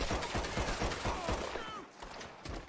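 Rapid pistol gunfire in Red Dead Redemption 2, a dense string of sharp close shots with dual pistols, steady and loud through the whole stretch, with a brief lull near the end before more firing.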